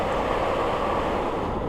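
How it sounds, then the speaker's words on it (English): A strong north wind blowing as a crosswind makes a steady, unbroken rushing roar, fairly soft and even throughout, with no one talking. "the wind has really picked up"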